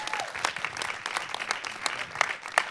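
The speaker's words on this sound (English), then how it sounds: "Let's give Chicago, by the way, a round of applause" Audience applause at a talk about the Oscar-winning film Chicago, a scattered burst of hand claps with uneven sharp peaks, moderately loud and close, without talk over it.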